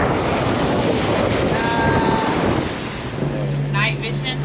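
Steady wind rushes across a sailing boat in about 9.5 knots of breeze under full sails, with water washing along the hull and a low hum entering near the end.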